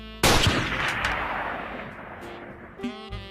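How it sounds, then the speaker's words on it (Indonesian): A single loud gunshot from a Squid Game scene cracks out sharply and rings into a long reverberant decay, followed by a faint tonal sound afterward. "yang pada akhirnya Nami ditembak juga"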